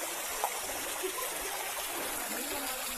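Water falling at Dharagiri waterfall in a hill valley near Ghatshila, a steady broadband rushing and trickling wash, continuous and even with no clear voices.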